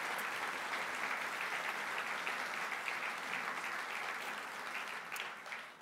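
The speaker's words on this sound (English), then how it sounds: "Please give them another round of applause." Steady, full applause from a civic audience at a county government address fills the hall for about six seconds, loud and continuous before easing slightly at the end.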